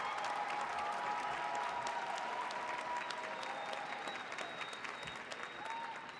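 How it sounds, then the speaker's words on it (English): A large crowd applauds graduates of a public policy and management master's program at a university hooding and diploma ceremony; a broad, steady wash of clapping in a big hall, with faint voices beneath. "Please join me in a round of applause for the graduates of our Master of Science in Public Policy and Management"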